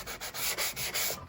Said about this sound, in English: you need to sand the edge wherever you're going to glue it